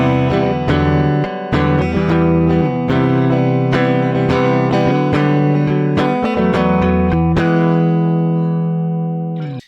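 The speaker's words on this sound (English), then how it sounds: "here's the sound of my Telecaster just going straight into my audio interface." A Telecaster electric guitar runs straight into an audio interface with no effects, giving a clean, dry tone as chords and single notes are strummed and picked in loud, close phrases that ring out and fade at the end.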